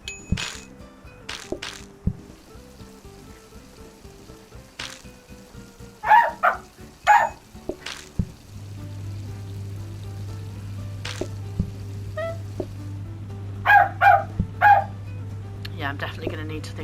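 A pet dog in a house gives several short, sharp bark bursts in two clusters, moderately loud over steady low hum and background game sounds.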